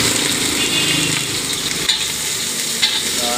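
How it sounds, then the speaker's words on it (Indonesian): Chicken stir-frying with rica-rica spice paste, with garlic added, in a wok for Indonesian street-food ayam goreng: a steady, close broadband sizzle and hiss with a few soft stirring knocks, no talk. "kita tumis sebentar. Kasih garlic sedikit, tumis sampai wangi."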